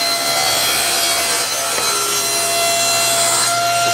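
A hand saw cuts through a glued-up wooden board being trimmed to size as a lid, a continuous, loud, close rasping with no pause and no talking.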